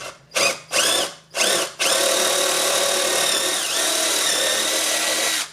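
A power drill whirs in three short close bursts, then runs continuously as it bores through a wooden dowel rod, its pitch dipping briefly as the bit loads up.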